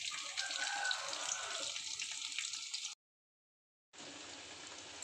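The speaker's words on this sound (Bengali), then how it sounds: "এবং আমি গোশগুলো ধুয়ে নিয়ে নিচ্ছি" Tap water runs steadily as meat is washed under it, a close, fairly soft splashing that cuts off abruptly for about a second and then resumes.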